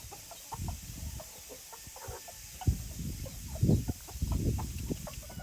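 Chickens cluck and murmur softly in short, irregular bursts, fairly close, with a steady hiss behind them.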